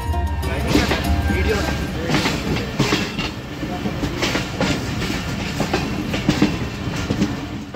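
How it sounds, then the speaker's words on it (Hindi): The 6 Down Green Line Express passes close by at Kharian Cantt railway station, heard as a loud, continuous rumble with rhythmic clickety-clack of wheels over rail joints while a voice talks over it. "क्योंकि इस वक्त हमारे बिल्कुल सामने से आ रही है 6 डाउन ग्रीन लाइन एक्सप्रेस।"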